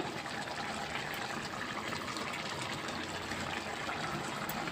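Red lentil dal bubbling in a pot as it nears done, a soft steady simmering gurgle with no voices.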